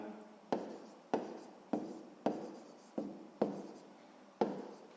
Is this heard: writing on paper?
yes